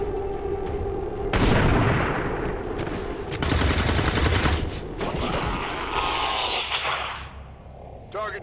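Gunfire in the XCOM 2 game during an ambush, sustained bursts of automatic weapon fire with booms and whooshing shots, loud and close, mixed with voices and game sound.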